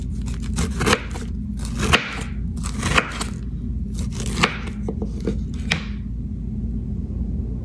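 Knife slicing through a pink pineapple on a board, a series of crisp, close chopping thuds and crunchy cuts at irregular intervals over a low background rumble.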